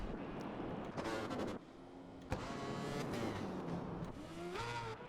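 An Aprilia racing motorcycle runs on track during a test session, its engine faint and distant, revving and shifting in rising and falling sweeps with a brief lull midway.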